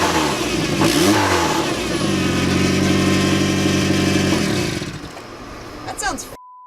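A Nissan 240SX's SR20DET engine revs hard and holds at high RPM with a rough, rattling tapping knock running through it, then drops back toward idle.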